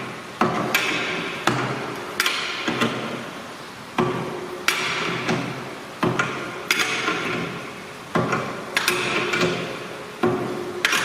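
Tightening the wheel nut on a Chapman FM machine produces a steady series of sharp metallic clacks roughly every second. Each one rings out and fades before the next, close and fairly loud.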